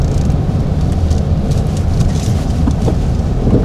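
Heavy rain falling during wet weather in Davao City, a constant thick patter and hiss with low rumbling underneath, steady throughout and without talk.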